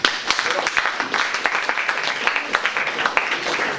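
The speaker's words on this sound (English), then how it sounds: "I do not wish you guys to clap for me, but to clap for us all, class of 2004." A graduating class of 2004 applauds at the end of a senior goodbye speech, a steady crowd of clapping hands heard up close, continuous and fairly loud throughout.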